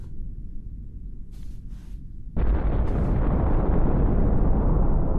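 A deep, roaring blast of an atomic bomb explosion swells suddenly into a sustained, loud rumbling roar that fills the space and does not fade.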